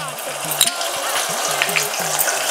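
Ginger garlic paste fries with onions in a pan, giving a steady close sizzle with occasional clinks of a spoon stirring, and faint talk underneath.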